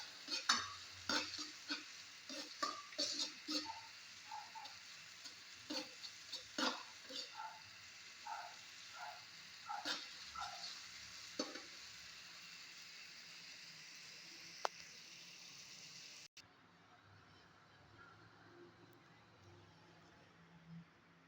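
Corned beef stir-fried in a pan with garlic and onion, with a steady sizzle broken by repeated clinks and scrapes of a utensil stirring; near and moderately loud, going quieter toward the end.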